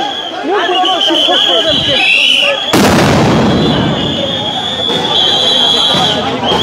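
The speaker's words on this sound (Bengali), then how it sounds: "পুলিশের পক্ষ থেকে সাউন্ড গ্রেনেড মারা হচ্ছে" Police sound grenades go off at a street protest, a sharp loud blast cutting through a dense crowd babble, with a steady high whine and a voice talking over the noisy scene.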